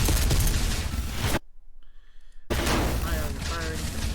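Dense, loud volleys of gunfire from the animated film Astartes, cutting out abruptly to near silence for about a second before the heavy firing resumes.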